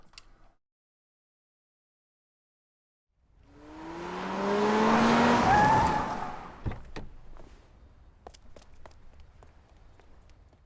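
A car in AI: The Somnium Files swerves to a stop, rising to a loud squealing screech of tires that fades, followed by a few sharp knocks and thuds.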